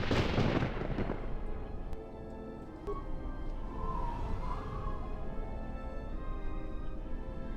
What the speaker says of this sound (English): we turned the turrets on the enemies there